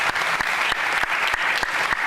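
Audience at a town hall meeting applauding a retired Miami police captain, steady moderately loud clapping filling the room with no voices over it.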